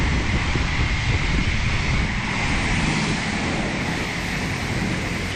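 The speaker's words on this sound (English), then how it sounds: "it's almost way too windy here, as you can hear" Strong wind roars across a flat campsite near the beach, a loud, unbroken buffeting rush that fills the whole stretch with no pause.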